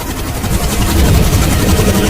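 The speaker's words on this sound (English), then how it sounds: "Zahe, do you hear some helicopters?" A steady low rumbling engine drone with rhythmic beating, like a helicopter passing overhead, loud and continuous.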